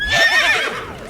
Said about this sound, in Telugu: ఆ సౌండ్ ఏంట్రా? గుర్రం.